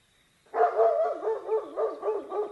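A dog barks in a rapid series of about six close, clear yips after a moment of silence, used as a sound effect in a narrated folk tale about an old man and his dog.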